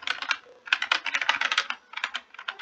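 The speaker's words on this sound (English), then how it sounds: "Sorry, I think my keyboard is super loud." Rapid, clattering keystrokes on a loud keyboard in bursts with short pauses, close and fairly crisp.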